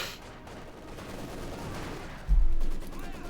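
Mortar and gunfire in the World War II strategy game Company of Heroes 2, a rumbling battle bed capped by a sudden heavy low boom late on, with scattered distant shots around it.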